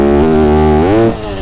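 A Yamaha YZ250F dirt bike engine revs loud and close, holding a steady buzzing drone before its pitch climbs sharply and then drops away.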